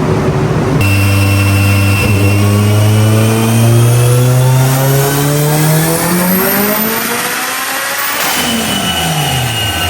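A built big-block Mitsubishi Evo 9 with a 64mm PTE turbo roars loud and close through a hard power run, its engine pitch climbing steadily before a brief drop and another rising pull.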